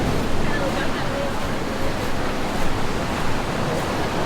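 Ocean surf washing in at Laguna Beach, California, a steady broadband wash of breaking water with gentle swells in loudness, continuous and fairly close, with some wind noise.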